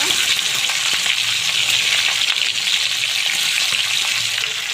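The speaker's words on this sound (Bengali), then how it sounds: "এখন আমি মাছগুলো দিয়ে দিই মাছগুলো ভাজার জন্য" Hilsa fish pieces fry in hot soybean oil in a wok, giving a loud, steady, dense sizzle that continues unbroken with no talking.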